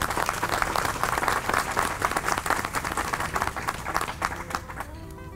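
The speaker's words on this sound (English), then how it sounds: "So let's give them a round of applause, please." A county meeting audience gives a round of applause, a full, even wash of many hands clapping that carries on throughout, with faint voices near the end.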